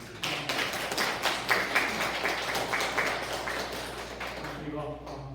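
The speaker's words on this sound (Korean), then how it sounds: "박수로." Congregation applause during a Korean church Sunday worship service, moderate clapping spread over a few seconds and fading at the end, with a voice speaking over it.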